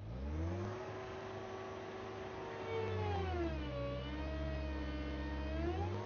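A Kubota SVL compact track loader's engine revs at full RPM, a loud, steady, close mechanical drone whose pitch sags and rises again partway through, with no voices.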